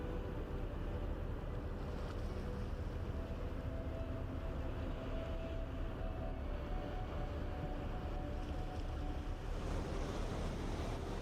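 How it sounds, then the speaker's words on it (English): Ocean waves crash against the cliffs of Mauritius in a steady, dense roar of surf that holds at an even level throughout, with no voices. "Take a moment to listen to the waves crashing against the cliffs."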